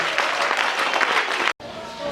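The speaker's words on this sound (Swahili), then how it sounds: "Piga makofi kwa Yesu. Piga mikono." A church congregation clapping their hands in unison at a worship service, loud dense applause filling the space, briefly cut off and then resuming.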